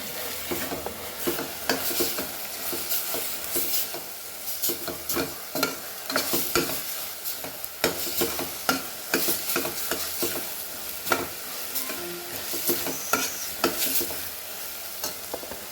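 A spoon scrapes and stirs spices through a sizzling pan of Goan crab and mango xacuti, with irregular clacks and scrapes over a constant frying hiss.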